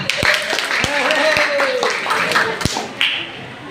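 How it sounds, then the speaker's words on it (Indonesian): Scattered hand claps from a school class, a few sharp taps and thumps rather than full applause, heard close and mixed with a voice talking over them. "Tepuk tangan"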